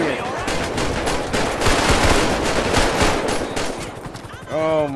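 A robot enemy in GTA 5 firing a gun in long, loud, rapid bursts of machine-gun fire that run almost nonstop, with a short voice heard at the very end.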